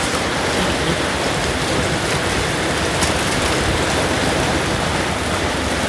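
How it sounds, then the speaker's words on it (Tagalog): Heavy rain pours steadily at night beside a fish trap where a large sea turtle is caught, a dense, loud, continuous hiss of drops with no voices. "Pabang lakas ng ulan, saka gabi na rin po."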